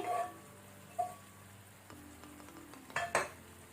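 Sweet corn tossed into a hot pan of prepared masala on a gas flame, giving soft sizzling with a few scraping stirs and light utensil clicks, close and fairly quiet, no voices.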